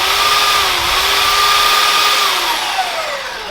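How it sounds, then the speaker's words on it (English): A power tool whines loudly and steadily, its pitch sagging and recovering under load, as it chamfers the ends of plastic waste water pipe, close and alone. "I'm just going to chamfer the ends off."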